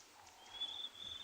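A single bird on an African safari game reserve gives a thin, high, drawn-out whistled call twice in quick succession over quiet outdoor ambience.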